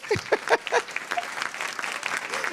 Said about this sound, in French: Applaudissez-les déjà pour les encourager.